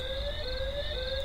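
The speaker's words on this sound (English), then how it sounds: "It's coming from here. That's the siren." Home security alarm siren at an entrance door, triggered by a motion detector, sounding as a steady electronic warbling tone that wavers in pitch, moderately loud and continuous throughout.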